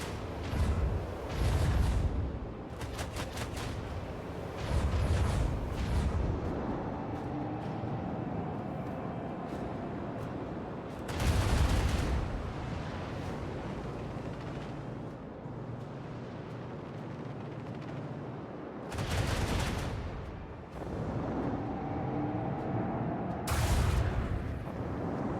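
Plasma torpedoes firing in a video game: heavy booming blasts erupt repeatedly at irregular intervals, each a loud broadband burst that decays into a lingering rumble.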